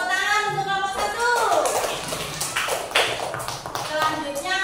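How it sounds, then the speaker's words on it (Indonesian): A classroom of young children claps for a group in a maths lesson, a short burst of rhythmic patterned clapping heard close, with a teacher's voice and children's voices over it. "Tepuk tangan untuk kelompok 1"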